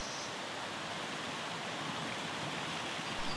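A tiny waist-high forest waterfall, its water rushing in a soft, steady broadband hiss, faint and unbroken with no other sounds.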